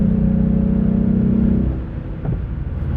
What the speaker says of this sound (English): it's literally just the exhaust.